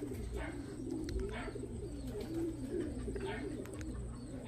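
Racing pigeons at the loft during a young-bird derby make soft, repeated cooing close by over a low background hum.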